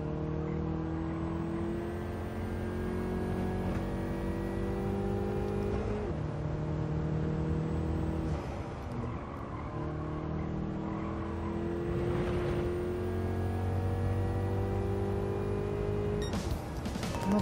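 Race car engine in Gran Turismo 7, a powerful car, holding a steady loud drone with shifting gear pitches and brief lifts and re-accelerations, continuous and close throughout.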